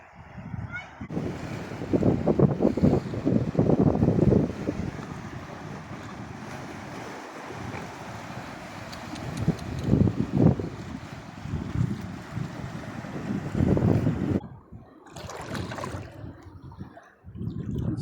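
Sea waves wash and break repeatedly in loud surges amid gusty wind, with brief lulls between swells and no voices.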